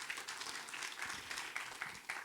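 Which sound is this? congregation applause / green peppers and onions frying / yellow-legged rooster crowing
congregation applause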